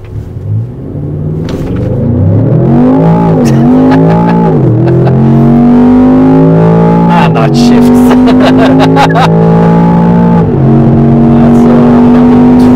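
A Range Rover Sport SV doing a launch on all-season tyres, heard from inside: a loud, deep engine rumble that climbs in pitch through several gear changes, each rise dropping back before surging again, over about thirteen seconds.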